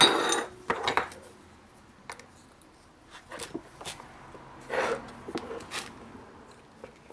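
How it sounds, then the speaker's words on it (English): A spanner works on the Amal Concentric carburettor of a BSA B25 motorcycle, making a series of faint, sparse metallic clinks and scrapes separated by quiet pauses. "The appropriate spanner, one size fits all."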